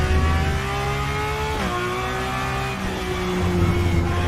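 A race car on Road America in the RaceRoom racing game screams loudly at high revs, its engine pitch climbing through gears and dropping on a shift, with no talk over it.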